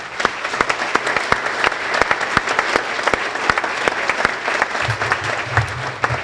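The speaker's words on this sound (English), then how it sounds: "we could give them a round of applause" An audience at a CSU-Pueblo event applauds the standing foundation board: steady, moderately distant clapping with a few sharp, distinct claps standing out, continuing evenly without voices.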